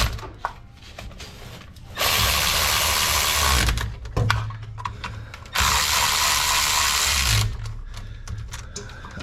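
Ratchet tightening the bolts on the rear differential cover of a Camaro after a new gasket goes on, heard in two long, loud, steady bursts of fast clicking separated by quieter handling noises.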